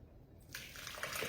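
Hot tomato and roasted pepper soup pours out in a steady, close liquid rush that begins abruptly and keeps flowing without a break.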